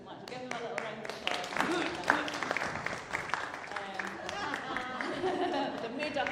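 Applause from a church congregation, a steady mass of clapping with voices and chatter mixed through it throughout, moderately loud and close.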